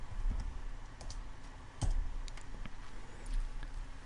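Quick, light clicks from typing on a computer keyboard, a short irregular burst of keystrokes heard close over low room noise.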